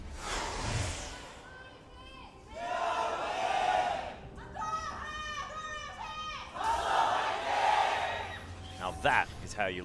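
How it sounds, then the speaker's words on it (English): Esports crowd at an LCK League of Legends match roaring in repeated rhythmic chant-like waves, loud and close, with bursts of shouting between swells. "That is how you lead a cheer, Papa Smithy."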